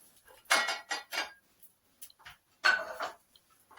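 Fried eggs with mushrooms slid onto a heated plate: a few light clinks and scrapes of utensil against the dish in short separate bursts, close by, with quiet gaps between them.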